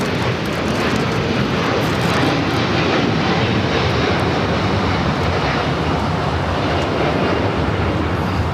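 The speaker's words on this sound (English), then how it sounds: "we got the Al Dreamliner heading back to Tel Aviv. Flight 6 now rolling down 25 right." A Boeing 787 Dreamliner rolls down the runway on its takeoff run at LAX, a loud, steady broadband jet engine roar that fills the scene without a break, with no talk over it.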